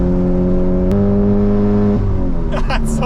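A big-turbo VW GTI with a new exhaust revs loud and close, its steady engine drone stepping up in pitch in two shifts before the revs climb and fall, with voices briefly excited near the end.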